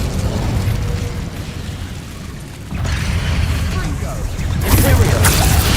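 Incendio fire spell cast in Hogwarts Legacy on PS5, loud whooshing fiery bursts over steady game ambience, with a second stronger burst near the end.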